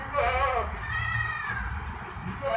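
At a busy goat market, a goat that has a young kid gives a few loud, wavering bleats, close by and repeating, over low background crowd noise.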